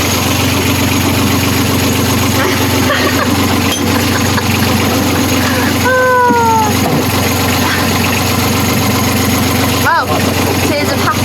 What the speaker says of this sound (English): I'm going to record the engine